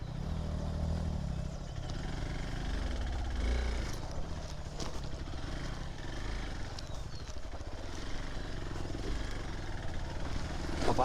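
A car driven slowly over a rough, rutted off-road track near Valparai, its engine rumbling and labouring steadily while the body clatters and knocks over the bumps, loud and continuous with no voices.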